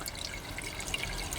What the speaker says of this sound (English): you can see there, the water goes down